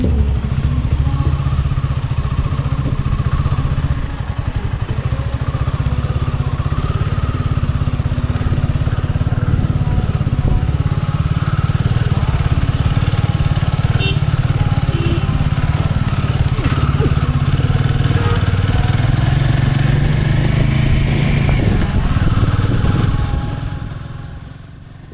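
Motorcycle ridden along the historic Hindustan-Tibet road (Silk Route) through quiet mountain valleys, its engine droning steadily and loudly for the whole stretch before fading at the end.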